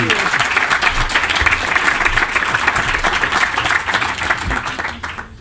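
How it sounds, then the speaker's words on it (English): Steady round of applause from a conference audience at a UK functional medicine forum, dense clapping filling the room for several seconds before tapering off near the end. "another round of applause for each other"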